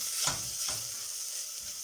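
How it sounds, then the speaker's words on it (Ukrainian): Steady sizzling of grated carrots frying in a pot, with a couple of brief stirring scrapes near the start, no voices. "І обсмажую ще 3 хвилини."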